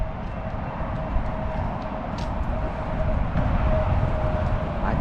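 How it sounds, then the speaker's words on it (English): A steady, heavy rumble of rail travel with a faint whining tone, continuous and fairly loud throughout, no distinct approach or fade. "I think that was a train."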